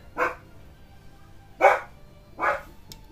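A dog barks three times from somewhere nearby, indoors at home. The barks are short, sharp and moderately loud, separated by pauses, with no talk.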